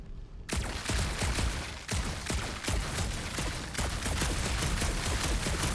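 Continuous elemental pistol fire in the video game Guardians of the Galaxy, rapid loud shots in a steady stream with brief breaks, close and without talk.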